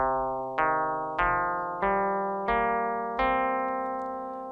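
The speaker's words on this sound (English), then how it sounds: "So a pentatonic scale that's rooted at C goes like this." Five plucky notes of a pentatonic scale rooted at C ring out from an Arturia MicroFreak synthesizer, evenly spaced and stepping upward, each with a bright percussive attack and a gradual decay, heard alone and up close.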